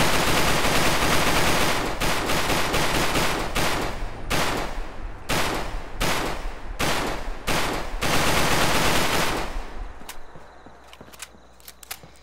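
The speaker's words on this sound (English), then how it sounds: "By shoving the microphone down the barrel of the gun?" A modded gun in Fallout 4 firing loud rapid bursts and repeated close shots, the volleys thinning out and giving way to quieter scattered clicks toward the end.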